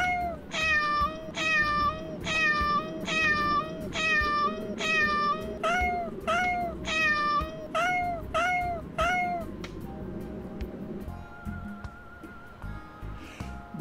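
Repeated cat meows from the cat character in the video game Darkestville Castle, about ten rising-and-falling calls in a steady rhythm over game background music, then the music carries on alone at the end.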